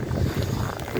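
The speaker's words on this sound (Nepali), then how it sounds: "It's really windy." Strong wind during a snowstorm in Windsor, Canada, roars and buffets the microphone in a loud, continuous gusting rumble.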